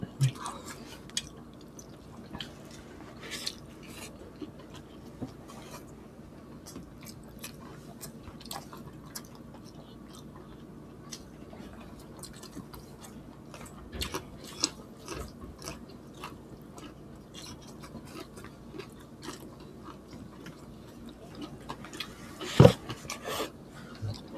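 Close-up chewing of crunchy fried milkfish (daing bangus), quiet irregular crunches and wet mouth clicks spread throughout, with soft talking in between.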